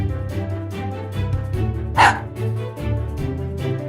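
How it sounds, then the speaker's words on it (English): A robot dog barks once in a short, bright yap partway through, heard over continuous upbeat background music. "Chip is a robot. Chip is a dog."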